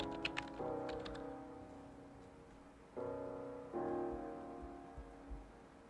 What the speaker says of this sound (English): Oh, I'm typing wrong.